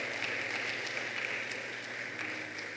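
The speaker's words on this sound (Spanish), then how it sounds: "Dele fuerte las palmas al Señor" A church congregation claps for the Lord during a service, a soft, even wash of many hands heard at a distance, steady and unbroken throughout with no speech on top.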